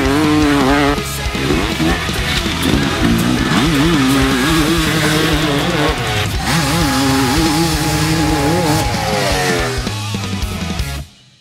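A two-stroke dirt bike engine revs loudly and continuously, its pitch rising and falling in wavering sweeps for about ten seconds before cutting off abruptly.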